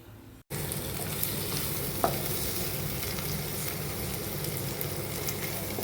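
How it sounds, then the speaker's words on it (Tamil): Raw-ground onion and tomato paste sautés in a kadai for a vegetable dish, giving a steady, close frying hiss with occasional stirring scrapes after a brief quiet start. "இப்போது இந்த வெங்காயம் ஆல்ரெடி வதங்கியிருக்கு"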